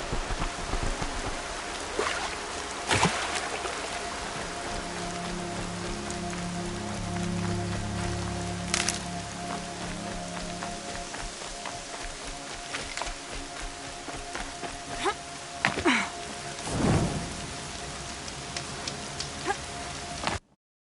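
Continuous rain patters steadily throughout in the video game Horizon Zero Dawn, with a low droning hum underneath and a few sharp clicks and thumps near the start and end.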